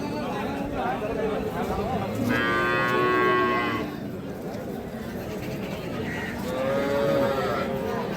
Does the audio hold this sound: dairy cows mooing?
yes